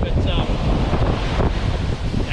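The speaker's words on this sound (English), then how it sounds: "it's really, really windy today, so the audio is probably not going to be that good, but blowing a gale from the northwest" Strong northwest gale on a beach buffets the microphone with loud, continuous low roaring gusts, surf and waves churning underneath throughout.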